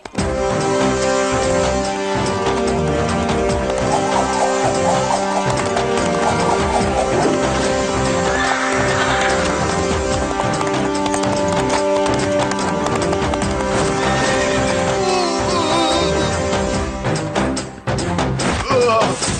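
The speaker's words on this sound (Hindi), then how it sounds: "जल्दी कुछ करना होगा, वरना ये घोड़ा सारे बाजार को मैदान बना देगा।" A horse gallops through a busy market in an animated Hindi folk tale, its rapid clip-clop hoofbeats loud and continuous under a dense backdrop of music and effects, with a brief whinny-like cry.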